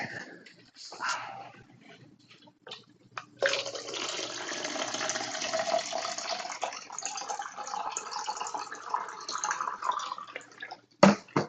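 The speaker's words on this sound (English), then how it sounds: "I'm going to pour myself some water" Water poured into a glass or container at a desk, a steady splashing stream starting after a few seconds of small clinks and handling noises, close and fairly quiet, ending with a couple of sharp knocks.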